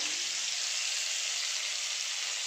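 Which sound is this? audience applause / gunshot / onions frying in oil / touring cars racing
onions frying in oil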